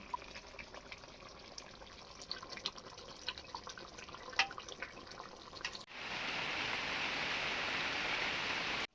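Egg curry simmers in a pot, first as faint, irregular bubbling and popping, then as a louder, steady, hissing rush for the final few seconds.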